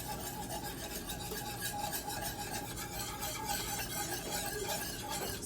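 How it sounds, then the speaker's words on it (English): Pork stock being whisked into a roast pork gravy, a steady wet stirring and scraping in the pan with faint sizzle beneath, continuous and close with no talking. "our pork stock into that and keep whisking."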